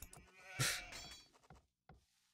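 A sheep in the Age of Empires video game gives a short, faint bleat, heard once among quiet scattered game clicks.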